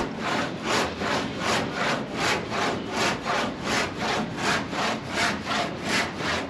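A hand saw works wood in a Ghanaian fantasy coffin workshop, rasping in an even, regular rhythm of strokes up close, with no speech over it.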